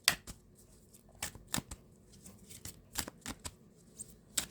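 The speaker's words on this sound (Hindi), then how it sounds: "मेरे व्यूवर्स के लिए लास्ट शफल देखते हैं" Tarot cards are shuffled by hand nearby, a series of short, crisp riffling snaps and flutters spaced irregularly over quiet background, with no talking.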